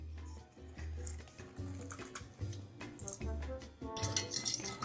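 Mint water with lime juice and sugar stirred in a container, with soft swishing liquid and light clinks of a spoon against the side, quiet and close.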